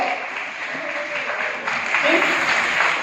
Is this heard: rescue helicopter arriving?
no